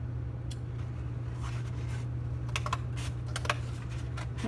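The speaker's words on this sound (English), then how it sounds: "It's weird to cut on this type of cardboard." Cardboard being cut for a collaged house: a run of scratchy, irregular snips and crunches, some in quick clusters, over a constant low hum.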